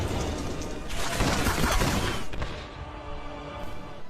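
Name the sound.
sniper rifle gunshots in a film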